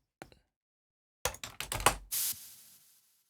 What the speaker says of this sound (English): I have a dust spray can. Let's go see what that sounds like.